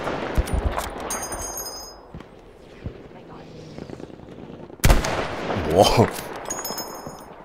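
Battlefield V gunfire crackles in bursts, with a loud close volley around the middle and scattered shots elsewhere, while a voice exclaims over the shooting.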